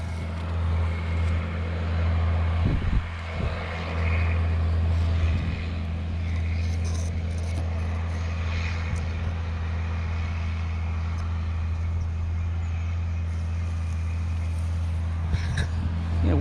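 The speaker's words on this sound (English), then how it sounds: "It's a very economical tractor unless it is working like that" A tractor works through a harvest with a steady, low engine drone that hums continuously at close range, joined by a few faint knocks and clatters along the way.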